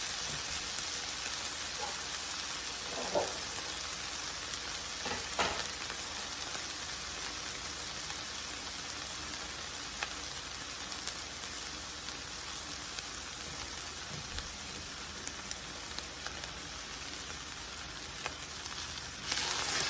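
Ground turkey and green onions sizzling steadily in a pan, a continuous crackling fry with occasional pops and stirring clatter, close and even throughout.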